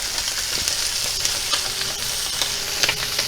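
A sous vide duck breast sears in a hot pan with a steady, dense sizzle and crackle. The frying hiss holds constant, with scattered small pops of spitting fat.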